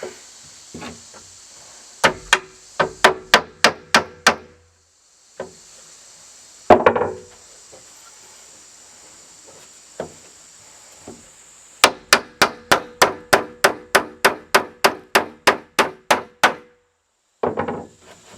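Bursts of sharp hammer strikes driving nails into wood while framing walls, several rapid series of evenly spaced blows with short pauses between, close and loud.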